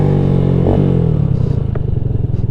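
Lifan KP Mini 150 motorcycle engine while riding, a loud close droning buzz with a strong low rumble that rises slightly in pitch as it revs, with some rattling clatter and wind noise.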